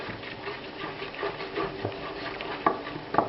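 Flour is stirred into melted butter in a pan to make a roux, giving soft, continuous scraping and swishing under a faint sizzle, with a couple of light clicks of the utensil against the pan.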